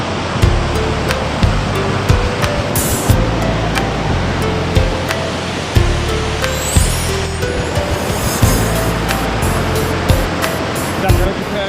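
Waterfall in Jamaica, a loud continuous roar of rushing water heard up close, with faint voices and repeated thumps mixed in.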